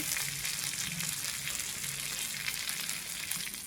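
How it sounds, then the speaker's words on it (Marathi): Bangda mackerel frying in a pan over a medium gas flame, a continuous close hissing sizzle with a faint low rumble underneath, steady and unbroken, no talking. "मीडियम गॅसवर आता बांगडा भाजून घेत आहे."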